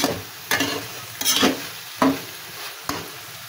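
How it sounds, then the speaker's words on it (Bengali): Kochur loti (taro stolons) are stirred in a cooking pan without frying first, with five distinct scraping strokes over a soft sizzle, close and clear. "এবার আর একটু নাড়াচাড়া করে দিই"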